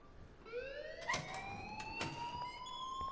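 An alarm sounds in the game Life Is Strange: a continuous rising electronic wail with bright harmonics, steady and fairly faint, with a couple of sharp clicks or bumps layered over it.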